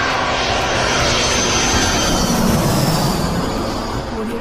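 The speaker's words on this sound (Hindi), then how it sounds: "ये तो हेलीकॉप्टर है।" A loud, steady whirring engine drone with a high whine on top, sounding close and continuous throughout, from a toy helicopter running.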